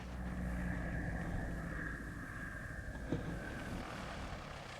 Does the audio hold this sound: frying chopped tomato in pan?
no